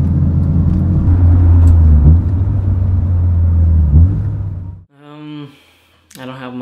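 A Mitsubishi Lancer Evolution IX drives by with a loud, steady engine rumble and road roar, close up, which drops away after about five seconds as a voice comes in.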